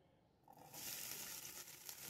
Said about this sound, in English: As the onion is getting fried